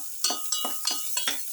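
Chopped onion tumbling into a hot frying pan for a garlic sailfish bowl, landing in several quick, clinking bursts over a light sizzle, close and fairly loud.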